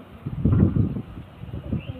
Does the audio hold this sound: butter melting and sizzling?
no